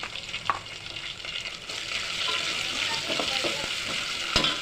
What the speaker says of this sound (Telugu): కాస్త లైట్ కలర్ వచ్చినాక వేపాలి కొంచెం